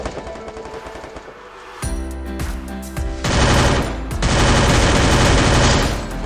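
Gunfire in the Free Fire mobile shooting game, loud rapid automatic bursts with heavy booming shots, several sustained volleys packed closely together and near, with no voices over them.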